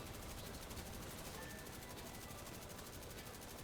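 Light machine gun with a huge magazine in The Division 2, firing in a fast, even, unbroken stream of shots at a steady rhythm, faint and somewhat distant under a wash of noise.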